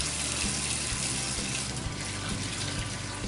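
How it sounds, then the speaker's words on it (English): Tap water runs steadily over mackerel being prepped in a kitchen sink, a close, continuous gushing hiss with small splashes and knocks underneath. "just run the water over it like this"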